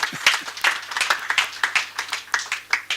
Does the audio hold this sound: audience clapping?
yes